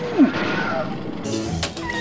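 Cat in Disney's Bolt animated film giving a brief strained yowl near the start, followed by rustling scene noise and a sharp whoosh, close and short.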